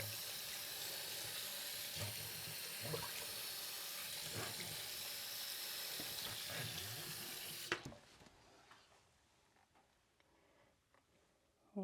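A tap runs steadily into a sink with a corroded overflow as it is tested during a home inspection, a loud continuous rush with faint knocks beneath, then it cuts off abruptly to a quiet room with small clicks.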